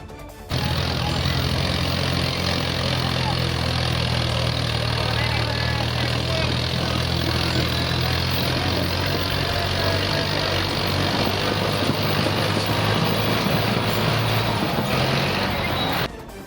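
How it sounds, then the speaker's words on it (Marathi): Cars creeping inch by inch through a traffic jam at Chhatrapati Shivaji Maharaj Chowk, a continuous low engine rumble and idling drone close by, with a voice talking over it. "चारचाकी वाहनांना पुढे जाण्यासाठी अक्षरशः इंच इंच पुढे सरकावे लागते"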